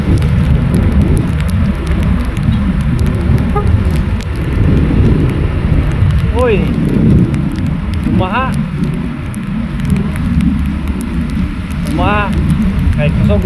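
Rain falls steadily over a field in a continuous dense hiss, loud and unbroken, while people talk and a few brief whistling or vocal chirps rise above it.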